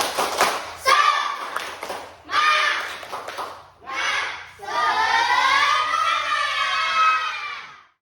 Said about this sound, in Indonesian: mari kita bersama-sama tepuk semangat ya